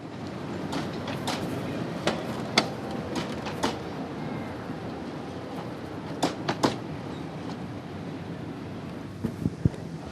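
A children's railway train runs along the line at Rivne, giving a steady rolling rumble broken by sharp clanks and rattles from the cars, heard from nearby, with no voices.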